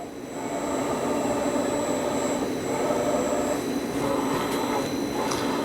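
Milltronics VK1 CNC vertical mill built in 2008, its X and Y axes driven by servo motors and ball screws, a steady whirring hum rising and falling slightly as the table travels, fairly loud and without speech.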